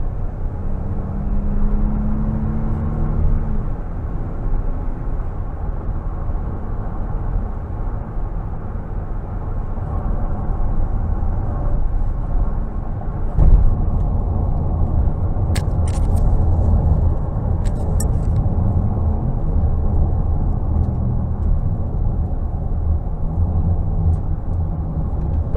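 A 2011 Toyota Sienna XLE with a front-wheel-drive V6 pulls steadily under throttle, its engine drone blending with road rumble and wind noise in a continuous, moderately loud cabin sound with no talking.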